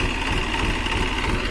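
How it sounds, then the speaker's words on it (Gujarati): A farm tractor engine runs steadily at close range, a continuous low throbbing drone with a buzzing rattle, unbroken throughout with no talking over it. "ટ્રેક્ટર આપણું ચાલુ છે જો"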